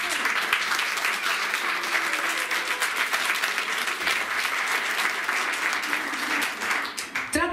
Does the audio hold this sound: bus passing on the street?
no